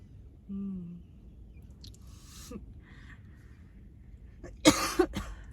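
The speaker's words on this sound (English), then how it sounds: "I got a little cough" A quiet room with a soft vocal sound early on, then one sharp close cough near the end followed by a smaller one.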